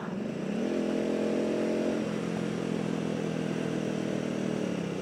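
A motorcycle engine revs up and holds a steady, buzzing drone, moderately loud, with no talking.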